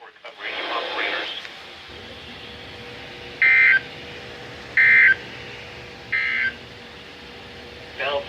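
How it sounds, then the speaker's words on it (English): NOAA Weather Radio broadcasting its required weekly EAS test: a burst of data noise followed by four short, loud electronic tone blips spaced about a second apart over a faint hiss. "so that was the required weekly test"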